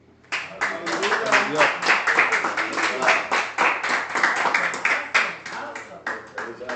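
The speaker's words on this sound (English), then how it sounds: "Another round of applause." A small crowd claps in a round of applause at a church teaching session, dense overlapping hand claps carrying on steadily for several seconds, fairly close.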